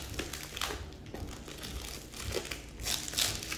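Plastic wrap around a boxed planner with stiff cardboard inside crinkles and crackles steadily up close as it is cut open.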